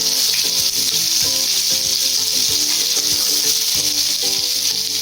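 Fish coated in masala fries in a pan, Chennai style, with a loud, steady close-up sizzle and scattered spitting crackles throughout.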